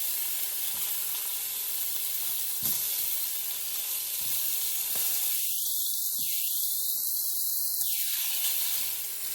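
Bacon frying in a pan for garden fried cabbage, a steady broadband sizzle throughout at close range, with two brief tonal whistles rising and falling midway, no voices.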